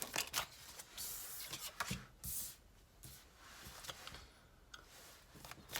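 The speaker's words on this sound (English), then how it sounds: "as soon as I'm done shuffling" A deck of tarot cards being shuffled by hand, with soft riffling bursts and crisp flicks arriving in an irregular rhythm, quiet and close, with no talking.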